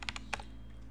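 Several quick keystrokes on a computer keyboard while entering a terminal command, crisp close clicks in a short burst over a steady low electrical hum.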